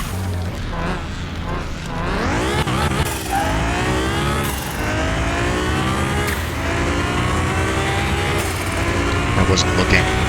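A car engine in the video game Car Mechanic Simulator 2021, a Nissan GT-R R35, revs and climbs in pitch repeatedly, roaring steadily with synthetic-sounding gear shifts, while someone talks over it.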